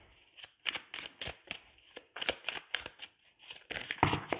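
Tarot cards being shuffled by hand for a reading, a series of quick, close riffling and slapping bursts in an uneven rhythm, fairly quiet and clear with no talk over them.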